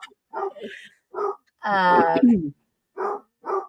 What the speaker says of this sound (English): I'm sorry if y'all hear Sandy barking in the background.